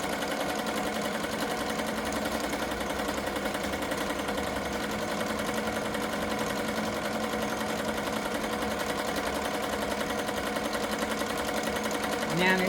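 An embroidery machine stitching an applique design runs steadily and fairly loud, its fast, even mechanical chatter continuing unbroken throughout, with a voice talking over it.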